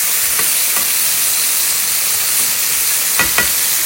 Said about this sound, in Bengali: আর এখানে টমেটো ভাজা হচ্ছে।